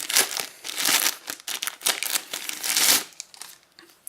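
Plastic packaging for a DJ headphone cable (Roland Aira M-100 V-Moda headset) crinkles and tears up close in a run of busy, uneven bursts with short pauses. No one speaks.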